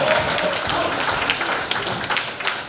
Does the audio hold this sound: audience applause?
yes